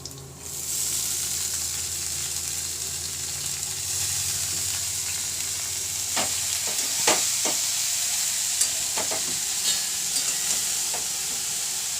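Finely chopped dill greens fry in oil with chilli, garlic and ginger paste, giving a constant sizzling hiss near at hand, joined midway by several sharp scraping stirs of a spoon against the pan.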